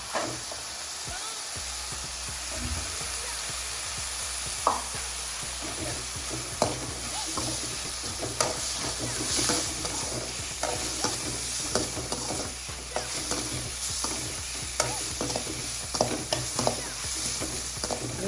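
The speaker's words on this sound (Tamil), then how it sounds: "சின்ன வெங்காயத்தை பொடியாக நறுக்கி அது கூட போட்டு வதக்கணும்" Chopped shallots sizzle steadily in a hot pan for a fish curry, with occasional scrapes and clicks of stirring over the constant frying hiss.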